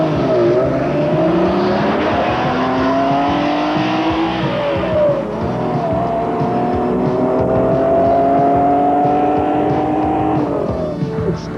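A stock 1985 Ferrari Testarossa driven at speed in an open-road race, its engine a loud sustained roar with rising and falling pitch through gear changes, steady and close, no voices over it.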